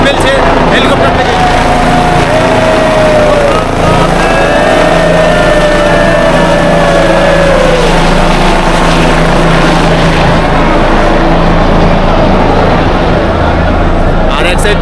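An Indian Army helicopter flies over the Kedarnath temple grounds during a celebration, dropping flowers; a continuous engine and rotor drone fills the air beneath a busy crowd and loud talking throughout.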